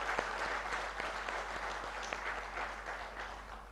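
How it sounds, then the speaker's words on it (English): An audience applauds at a ground breaking ceremony for a new pharmaceutical unit, a steady wash of many hands clapping that runs evenly throughout at moderate distance, with no talk over it. "I think they deserve a big round of applause"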